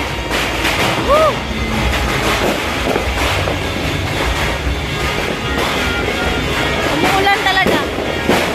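Firecrackers and fireworks bursting outdoors on a rainy New Year's Eve, a dense, continuous crackle and rumble of distant and nearby explosions with whistling rockets, people talking and cheering over it.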